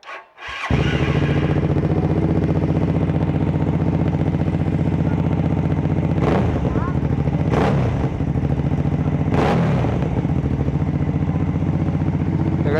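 Hyosung GV650 motorcycle with a custom barrel exhaust starting up and idling loudly with a deep rumbling beat, then three quick sharp throttle blips, close and alone.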